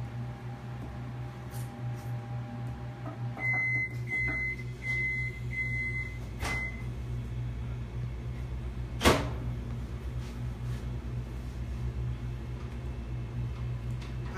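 Microwave oven running with a steady low hum while chocolate melts inside, a short series of beeps partway through and a sharp click or door thud near the end.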